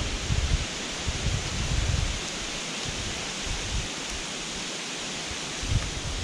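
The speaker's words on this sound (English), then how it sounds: "Wind is whipping in every direction." Wind rushes through treetops in a steady, broad roar, gusting and buffeting with low rumbles, loud and without speech.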